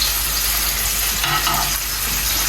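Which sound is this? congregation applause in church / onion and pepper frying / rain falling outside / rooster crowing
onion and pepper frying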